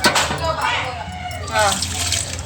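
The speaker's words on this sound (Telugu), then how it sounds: "కొంచెం వాటర్ వేసి కొంచెం కడిగేస్తానండి." Soaked tamarind is washed by hand in a little water, giving soft, close sloshing and trickling splashes in uneven bursts, with a voice talking over them.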